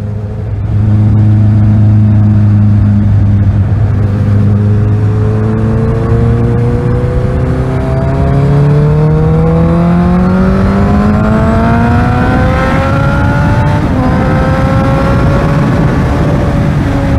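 A Suzuki GSX-R 1000 sportbike accelerates hard on a highway. Its engine note climbs steadily through rising revs with gear changes, loud and close from the rider's position, and there is no talking.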